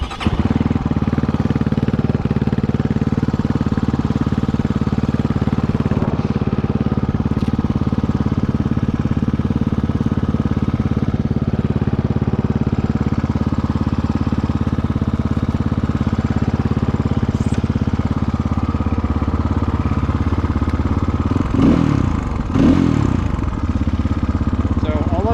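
A 2022 GPX FSE300R motorcycle fitted with an ARacer ECU runs at a steady, loud idle close by, with a slight wavering near the end.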